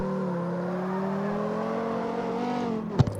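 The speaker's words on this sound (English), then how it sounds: "I think it has the same engine sound as the other Viper that's in the game." A Dodge Viper sports car engine in the video game CarX Street drones steadily with a rising, revving pitch, then cuts off abruptly with a short thump near the end.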